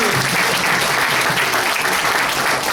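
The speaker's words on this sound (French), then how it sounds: "Je crois qu'on peut les applaudir pour cette interprétation quand même." An audience applauds a performance in a packed hall, loud, even clapping that fills the whole short stretch without a break.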